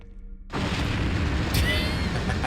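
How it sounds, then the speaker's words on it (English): An explosion in the video game Resident Evil bursts in suddenly after a brief quiet moment, then rolls on as a loud, sustained rumbling boom with crackling debris noise to the end. "There's the explosion."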